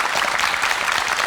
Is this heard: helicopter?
no